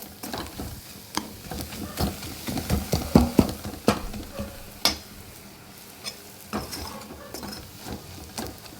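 Ground spice paste is sautéed in a pan with a spatula, producing irregular scraping stirs and soft knocks over a steady low sizzle. The stirring is close and moderately loud, with no voices.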